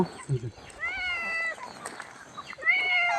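Cats meowing at a Thai temple in Lampang, several clear rising meows close by, with a voice briefly speaking at the start.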